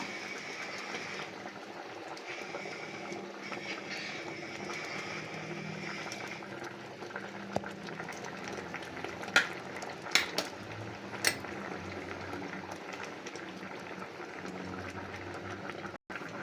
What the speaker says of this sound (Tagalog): Hayaan lang natin ang kumulo ng kumulo ito mga lods para maluto din yung gata.